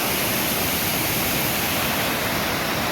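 A wide, strongly flowing river in the Konkan countryside gives off a loud, constant roar of rushing water, close and unbroken, with no speech.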